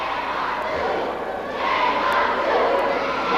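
A wrestling arena crowd roars in a continuous, loud wash of voices that swells in the second half, with scattered shouts rising out of the din.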